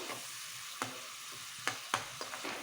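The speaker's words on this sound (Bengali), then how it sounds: "মশলাটা ভালো করে কষিয়ে নেব।" Spice paste of ground cumin frying in a pan for a hilsa curry, a soft steady sizzle broken by several sharp spatula scrapes and knocks, close and otherwise quiet.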